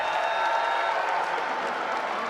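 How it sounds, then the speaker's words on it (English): Crowd at a Maryland vs Rutgers women's college basketball game applauding and cheering, a steady wash of clapping and voices held at an even level throughout. "Sellers and Schmeichel come out and get a well-deserved cheer from the crowd"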